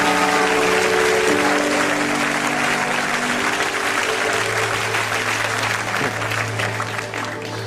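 A church congregation applauds and cheers in a loud, dense burst that fades slowly, with a sustained organ or keyboard tone underneath and a voice briefly rising above it.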